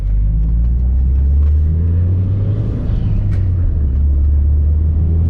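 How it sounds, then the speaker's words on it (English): A turbocharged Mitsubishi Lancer Evolution IX MR engine drones and revs steadily, a loud, deep rumble throughout with a slight rise in pitch, heard from close up. "it revs so much, even for a turbocharged car"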